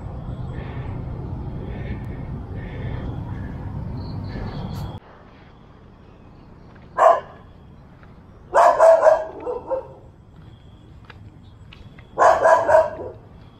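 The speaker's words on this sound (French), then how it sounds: "vous êtes souvent emmerdé par les chiens errants" Stray dogs in a Thai volcano forest park bark in short bursts, three loud clusters of yaps and barks at moderate distance, separated by quiet stretches after an earlier low rumble.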